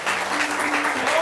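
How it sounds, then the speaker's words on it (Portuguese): A church congregation gives a short, steady burst of dense applause during a bilingual Portuguese and Spanish sermon on missions, close and continuous throughout. "Você pode aplaudir o Senhor?"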